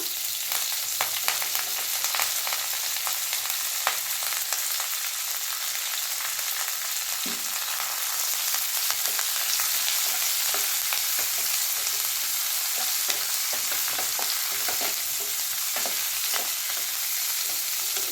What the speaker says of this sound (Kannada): ಈರುಳ್ಳಿನ ಎಣ್ಣೆಯಲ್ಲಿ ಚೆನ್ನಾಗಿ ಫ್ರೈ ಮಾಡ್ಕೊಂಬಿಡೋಣ